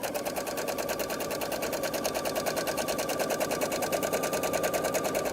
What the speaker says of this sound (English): So I can start that stitching